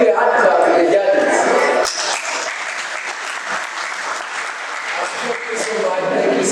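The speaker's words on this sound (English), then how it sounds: "Please give a hand clap to the judges" A debate audience applauds the judges at a university debate session, a dense, sustained wash of clapping that dips slightly partway through and carries on steadily to the end.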